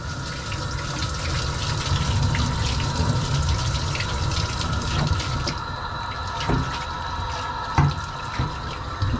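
Water running steadily from a tap or sprayer while rinsing an Australian Shepherd's undercoat, a continuous close hiss and splash with occasional small clicks and knocks, no voices.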